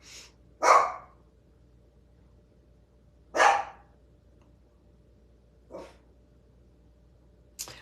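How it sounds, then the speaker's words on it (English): A dog in a quiet room gives a few scattered barks, two strong and close, then fainter, shorter ones trailing off with long pauses between. "my darn dog."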